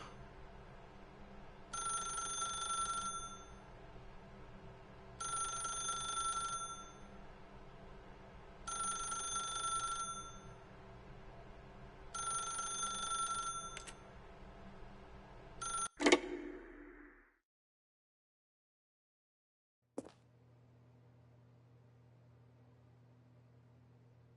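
A telephone in The Stanley Parable rings in four evenly spaced bursts of electronic trilling. A clunk follows as the handset is lifted, then silence and a faint line hum.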